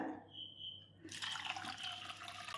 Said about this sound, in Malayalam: ഇതിൽ മൂന്ന് കപ്പ് വെള്ളം നമുക്ക് ഒഴിക്കാം